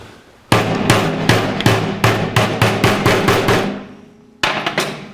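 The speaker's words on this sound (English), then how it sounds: "Put the retainer clip in and tap it into place." A retainer clip being tapped into place on a Hurst Quarter Stick shifter for a TH400 transmission in a 1949 Chevrolet: a loud run of about a dozen sharp metallic hammer taps in quick rhythm, a pause, then three more taps.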